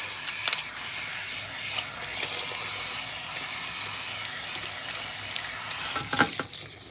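Water runs steadily from a salon faucet as it soaks coarse-textured hair, a continuous close hiss and splash with brief bursts of splatter, no voices heard.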